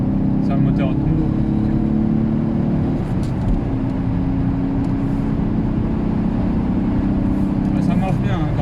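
Alfa Romeo 145 engine climbing through the revs on the road, a steady close drone with a rising pitch, heard under ongoing conversation inside the car.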